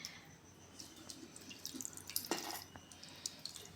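Tamarind water is poured through a filter onto cooked leftover rice in a pot, with faint trickling and scattered drips, quiet and close.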